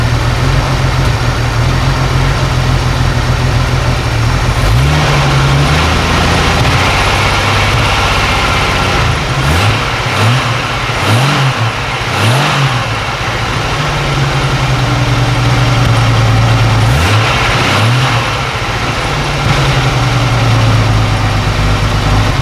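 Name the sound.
Jeep YJ engine idling roughly on old gasoline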